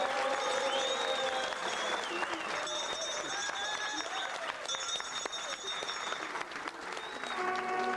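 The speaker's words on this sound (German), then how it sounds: "Applaus." Steady, dense applause from a large crowd at a ceremonial wreath-laying fills the whole stretch, loud and continuous without pause.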